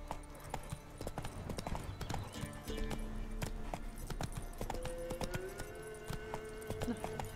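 Roach, a horse in The Witcher 3, gallops with a steady, fast clip-clop of hooves over continuous game ambience and music, sustained throughout at moderate loudness.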